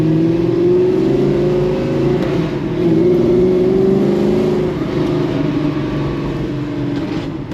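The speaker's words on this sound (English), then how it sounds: "With the hood on, you don't hear the motor rattle around as much." Big block Chevrolet Nova engine running as the car drives: a loud, steady, close low drone with a slight rise and fall in pitch, heard alone with no talk.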